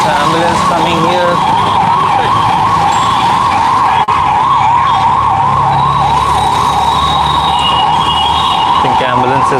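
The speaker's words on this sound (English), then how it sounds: "There's also ambulance coming here." An ambulance siren wails continuously in a loud wavering cycle amid city traffic in Hyderabad, with engine rumble and horns around it.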